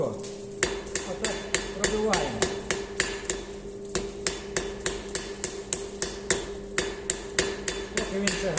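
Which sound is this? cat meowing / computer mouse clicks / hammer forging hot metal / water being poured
hammer forging hot metal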